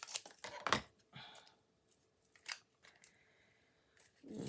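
Scissors snip through craft material for an autumn pumpkin project: a few sharp crunchy cuts up front, then quieter rustles and scattered snips, close by with no voice.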